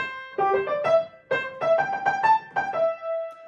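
A brief piano phrase played with a lilting swing feel, uneven long-short note pairs, clear and close with no voices.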